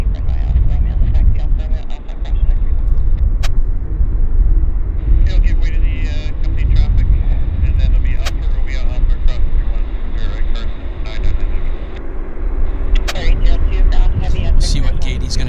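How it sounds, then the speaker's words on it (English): Boeing 747 taxiing at Vancouver airport, a steady loud jet engine rumble and whine, with someone talking over it throughout. "I'm going to hold the camera on the 747 now that it is taxiing"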